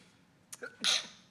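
A single sharp sneeze, preceded by a quick intake of breath, close and brief against a quiet background.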